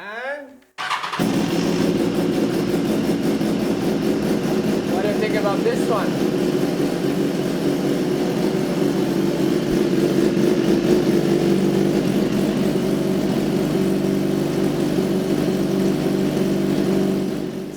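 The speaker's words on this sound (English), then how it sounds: "Let me show you how my exhaust sounds, because I know for sure that everybody wants to hear loud exhaust." A BMW S1000RR motorcycle with a loud aftermarket exhaust starts up and settles into a steady, throaty idle with light revving, held loud and close for most of the stretch, with a brief spoken question near the beginning.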